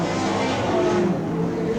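A race car engine drones loud and close during the 1984 Australian Grand National, a steady, slightly uneven hum from a motor running off song, with no voices over it.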